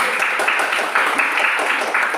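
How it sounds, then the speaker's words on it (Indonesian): Students in a classroom clapping for a presenting group, dense steady applause from many hands close by, with faint voices mixed in. "Tepuk tangan buat kelompok 3 dulu."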